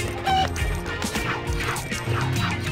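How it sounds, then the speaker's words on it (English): Chicken in LEGO City Undercover squawking and clucking in quick, busy bursts over a thick layer of game music and clatter, loud and close throughout. "I've got a chicken!"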